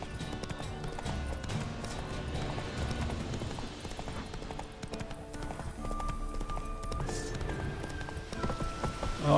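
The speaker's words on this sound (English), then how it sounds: "They're saddled horses." Saddled horses' hooves clip-clopping in The Witcher 3 video game, a steady run of close, crisp hoof taps over game music and ambience.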